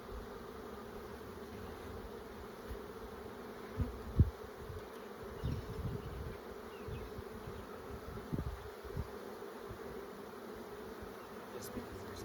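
Honey bees hum softly and continuously around hive frames during a brood box inspection, with a few louder buzzes as bees fly close. Occasional light knocks come from the equipment.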